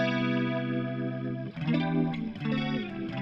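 An electric guitar played through an Axe FX 3 with a rotary effect rings out sustained chords, then shifts into swirling, warbling notes with a wobbling modulation.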